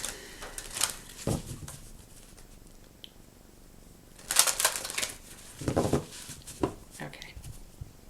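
Soft, quiet riffling and flicking of cards in a few brief bursts, with pauses between, close to the listener.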